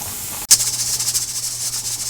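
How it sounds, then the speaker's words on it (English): Steam vents from a pressure canner on the stove while beef is canned, beginning after a brief pause as a sudden loud hiss that settles into a steady, fluttering, close rush. "Steam, steam, steam."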